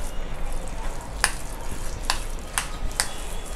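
A spoon works through hara bhara kabab mixture in a bowl, giving a soft, continuous scraping and stirring with a few sharp clicks against the bowl, up close and quiet.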